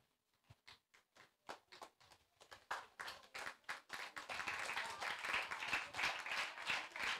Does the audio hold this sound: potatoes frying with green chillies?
no